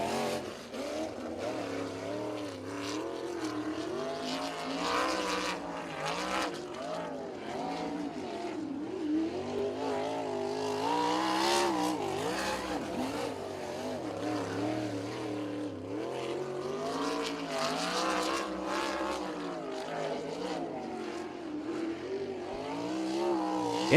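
A USAC National sprint car laps the Circle City track with a loud, continuous roar whose engine pitch rises and falls through the corners and straights, heard from trackside without talk.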